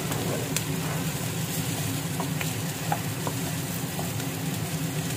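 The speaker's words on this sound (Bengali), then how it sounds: "আমি এখন ভালো করে আগে চালটা ভেজে নিচ্ছি।" Raw rice is fried in a pot with oil, cashews and raisins for vegetable pulao. A steady moderate sizzle runs throughout, with occasional faint clicks from stirring.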